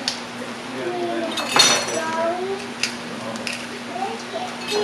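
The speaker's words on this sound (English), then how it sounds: "I'm just using my Pampered Chef garlic press to put the garlic in" A Pampered Chef garlic press crushes garlic cloves for Tuscan chicken soup, giving close, sharp metallic clicks and clinks in a cluttered kitchen, with a voice talking faintly underneath.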